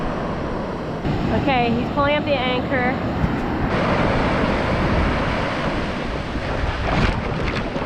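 Crashing ocean waves in the Marquesas, a constant heavy wash of surf and wind noise, with people talking briefly over it.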